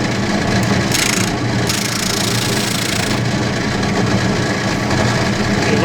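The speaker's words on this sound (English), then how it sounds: "Let's see if we can take that down just ever so slightly here on the sander." Power sander rounding the corners of a wooden glue caddy, a loud continuous motor drone with gritty grinding as the wood is pressed against it, steady throughout with short shifts in tone.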